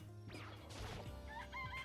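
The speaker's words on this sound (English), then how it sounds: "It's a chicken." A chicken in the game Danganronpa: Trigger Happy Havoc, with a few quiet clucks and squawks mixed with a short thump, faint under a low background hum.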